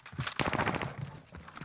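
A quick burst of automatic fire from a Stoner 63 in Call of Duty Warzone, several rapid close shots in under a second followed by a couple of fainter pops.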